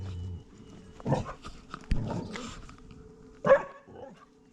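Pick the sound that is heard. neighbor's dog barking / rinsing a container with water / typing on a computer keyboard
neighbor's dog barking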